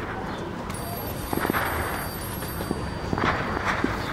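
A telephone rings indoors in a domestic drama scene, repeated electronic ring bursts in a steady pattern at moderate level, with soft footsteps and faint background movement between rings.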